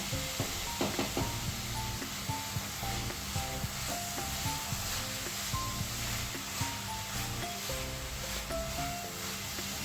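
Raisin and coconut filling for steamed modak sautés in a pan, a steady close sizzle with soft scraping stirs and small clinks from the spatula throughout, with no talking.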